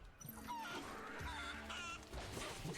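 Hen clucking in the video game Final Fantasy 7 Rebirth, several quick nasal clucks and squawks in a busy run over background game ambience, fairly close but modest in level.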